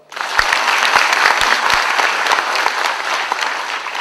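An indoor audience at the opening of a regional cultural centre breaks into loud, sustained applause, with a few sharper claps near the start, holding steady throughout.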